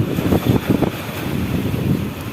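Strong gusting wind at Bakauheni harbour at night, roaring steadily with uneven surges close to the microphone, buffeting and rumbling low, with a ferry setting the scene and no voices.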